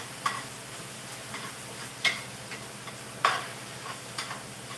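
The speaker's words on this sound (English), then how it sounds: "I like cooking my ground beef on high heat" Ground beef fries in a pan over high heat with a low steady sizzle. Sharp clicks and taps of a spatula against the pan come every second or so.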